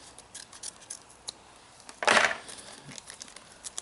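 Scissors snip through a plastic bag of purple beads in a single brief crisp cut, close and fairly loud, with faint rustling of plastic and small clicks before and after.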